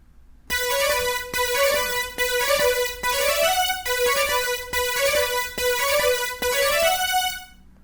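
Keyboard chords strike in a steady rhythm, about eight sustained chords changing in a repeating progression, bright and clear with no voices.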